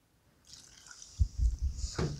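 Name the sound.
pouring milk into a saucepan for sausage gravy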